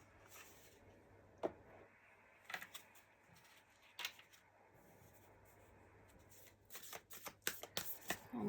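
Daily Guidance Oracle card deck handled and shuffled, with soft papery riffles and sharp card snaps in scattered bursts, busier near the end, quiet and close with no talking.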